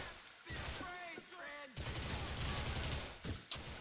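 Rapid gunfire rattles in sustained bursts from enemies shooting at the player in GTA 4 on PC, loud and dense with short gaps, while a voice speaks over the opening shots.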